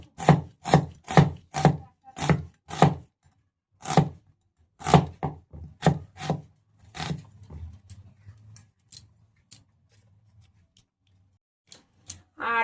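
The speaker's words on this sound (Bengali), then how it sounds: "এই 500 পেঁয়াজটাকে আমরা কেটে ফেলবো কুচি কুচি করে।" A knife chops onions finely on a board in a quick, steady run of sharp, close taps that slow and thin out toward the end, with no voices.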